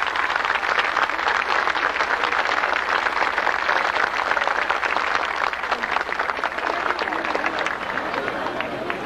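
A large crowd claps continuously and densely at an outdoor Catholic procession for the Apostle San Judas Tadeo in Callao, a loud, unbroken wash of applause with voices mixed in.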